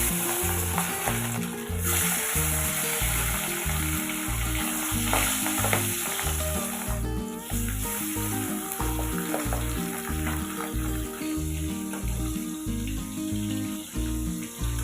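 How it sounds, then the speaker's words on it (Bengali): Pabda fish rubbed with salt and turmeric frying in a pan over medium-high gas, a dense continuous sizzle up close with occasional stirring, over steady background music. "আমি গ্যাসটাকে মিডিয়াম টু হাই করে আগে থেকে নুন হলুদ মেখে রাখা মাছগুলো আমি ভেজে নেব"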